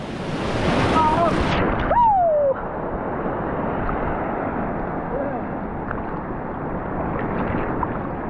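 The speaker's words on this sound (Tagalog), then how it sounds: "Laki ng alon ah." Big sea waves wash around a small boat at sea, a loud, steady rush of water with wind buffeting the microphone and a brief high whistle near the start.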